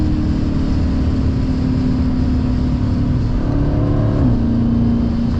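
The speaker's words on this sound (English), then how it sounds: "there is a whine in this damn car" A steady engine hum from a supercharged 392 Challenger Scat Pack with a high mechanical whine as it accelerates; the pitch shifts once near the end, with no talking.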